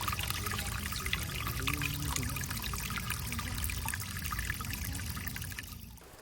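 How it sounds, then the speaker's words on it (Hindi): Water flows continuously in a village setting, a dense, steady rushing and trickling wash that stays at an even level throughout before easing slightly at the end. "देखिए पानी ही पानी।"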